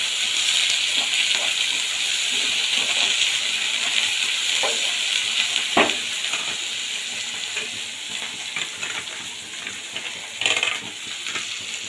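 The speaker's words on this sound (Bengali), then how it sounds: "এবার একে খুব ভালোভাবে মিশিয়ে নেবো" Chopped onion pieces sizzle steadily in hot oil in a pan while being stirred, with occasional sharper scrapes and clinks from the utensil, loud and close with no voices.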